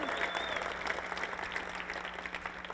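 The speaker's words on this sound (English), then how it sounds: "Give yourself a bit of a cheer for that." An audience at a physical education teachers' conference cheers and applauds in a steady, even wash of clapping that is moderately faint and continuous throughout.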